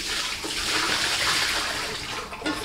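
Water being dumped out from brewing equipment while making beer from an extract kit, a steady loud splashing pour that runs continuously for a few seconds with no talking.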